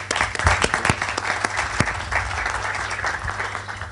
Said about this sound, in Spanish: Un aplauso para Garrett.